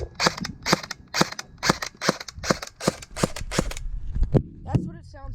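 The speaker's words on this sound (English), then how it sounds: "When you shoot your AEG or your automatic electric airsoft gun, you hear this." An HK MP5 SD6 electric airsoft gun fires with its suppressor off, giving a rapid run of sharp, snappy clicking shots, about a dozen in quick succession, followed by some faint shuffling handling noise.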